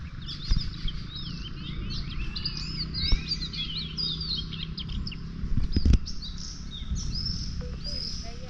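Two birds trade varied high chirps and whistling calls continuously in a rural Konkan setting before rain, with a steady low rumble of background noise and a few brief knocks or wing flutters.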